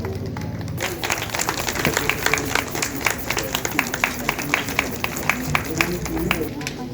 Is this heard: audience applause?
yes